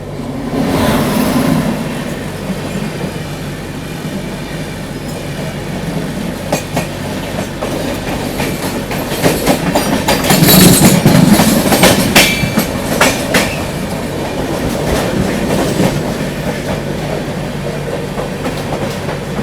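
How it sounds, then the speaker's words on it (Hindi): The LTT Mumbai–Gorakhpur Kushinagar Express passes close alongside, a continuous loud rumble with rhythmic clickety-clack of wheels over rail joints and rising rattles mid-pass. "और सामने से आ रही है LTT मुंबई गोरखपुर कुशीनगर एक्सप्रेस।"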